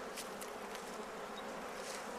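A dense, steady buzzing of many honey bees in a hive fills the air, a continuous droning hum with no voices.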